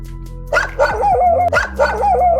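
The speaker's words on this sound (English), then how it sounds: "Now the dog is barking at that." A dog barks repeatedly, close and loud, in short bursts with a steady rhythm.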